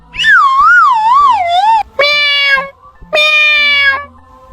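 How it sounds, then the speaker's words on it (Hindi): A cat gives three loud, close meows, the first long and wavering, then two shorter, steadier ones, with faint background sounds beneath. "देखो ठाकुर साहब, बिल्ली आ गई।"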